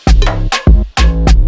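Moombahton drop beat with punchy drums: heavy kick-driven hits landing in a syncopated pattern, loud and close, over a thick low bass and bright synth stabs, no voices.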